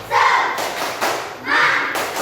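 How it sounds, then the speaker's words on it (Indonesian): A class of schoolchildren performs the tepuk semangat clapping chant, with bursts of hand claps and shouted voices arriving in short rhythmic groups, loud and close. "Tepuk semangat."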